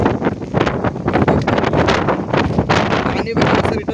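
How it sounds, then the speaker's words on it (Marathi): Strong wind at a hill fort during monsoon rain buffets the microphone in loud, continuous rushing gusts for the whole stretch, with no clear pauses. "थोडा वारा सुटला"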